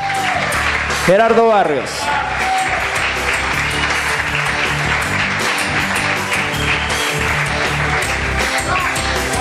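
An audience applauds to welcome school teams at a Salvadoran quiz contest, a sustained loud wash of clapping and crowd noise with an announcer speaking over it.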